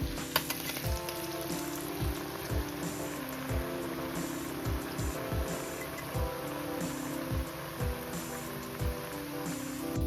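Rice flour murukku fries in hot oil with a dense, continuous sizzle and bubbling crackle, heard up close with a few brief louder pops.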